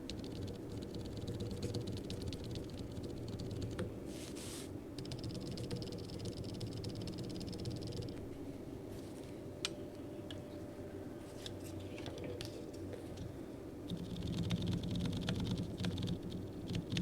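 Small plastic keyboard stabilizer parts handled during a custom mechanical keyboard build, with quiet clicks, snaps and rustling close up over a steady low background hum.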